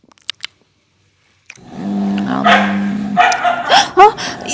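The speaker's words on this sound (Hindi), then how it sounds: "ये तो हमारा डॉगी है, लगता है वो जाग गया है।" A dog barks and yips at night, several sharp barks, then whining and whimpering close by, after a few soft clicks and a stretch of silence.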